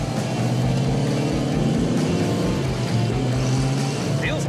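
1972 Ford Pantera engine running while driving around the block, a steady, loud low-pitched rumble with a throbbing rhythm and rising pitch near the end, heard from inside the car with faint voices.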